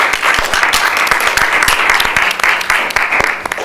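Audience applause for a newly elected student government executive board at a university general assembly, dense steady clapping filling the room with a few sharper individual claps standing out.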